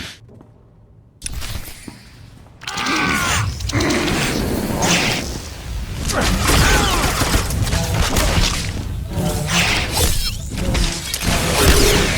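Blaster gunfire in a Star Wars: The Old Republic battle on Taris, with a sustained loud barrage of rapid shots and impacts after a quiet start, mixed with game effects and brief voices.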